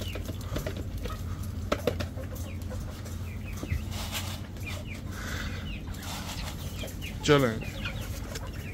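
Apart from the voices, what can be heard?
Aseel chicks clucking while eating feed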